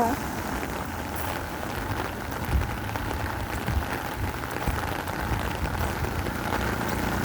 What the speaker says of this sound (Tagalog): lakas ng ulan. Andiyan na.